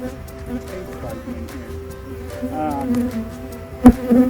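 Honeybees buzz around an open beehive during an early June inspection, a close, wavering hum with individual bees passing near, and a voice speaks briefly over it.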